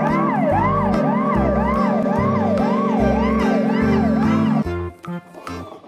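A toy fire truck's electronic siren wails in steady rising-and-falling sweeps over a thumping beat, loud and close, then cuts off after about four and a half seconds, leaving a few clicks and handling noises.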